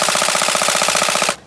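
A Bolt Airsoft AEG rifle with its recoil system on fires a fast full-auto burst at an exhibition, loud close rattling shots in an even rhythm that cut off after about a second.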